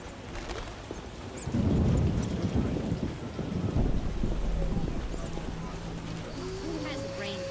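In The Witcher game, steady rain falls while thunder rolls in loudly after a couple of seconds and rumbles on for several more, with a low voice talking beneath the storm.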